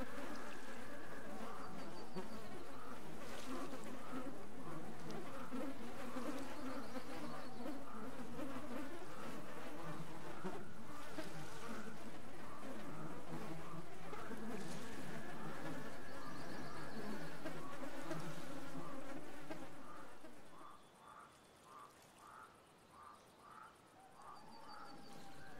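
A swarm of flies buzzes steadily in the Russian Fishing 4 video game during a float-fishing bream match, a dense drone lasting about twenty seconds before thinning into fainter, wavering hums.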